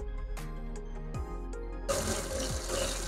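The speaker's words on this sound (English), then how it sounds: "we're sucking out that scalding hot bleach water all the way through the hose" Scalding hot bleach water being drawn through a hose into a sink while disinfecting shrimp tank equipment, a steady running trickle with a few knocks, then a louder gushing splash toward the end.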